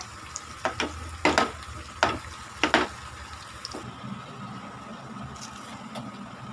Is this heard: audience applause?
no